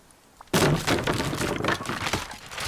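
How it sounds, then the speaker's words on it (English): A grenade detonates in the survival game Rust: a sudden loud, sharp blast after near silence, followed by a sustained crackling, rumbling tail of debris-like noise that stays dense and loud to the end. "since somebody's using grenades and he said it wasn't him"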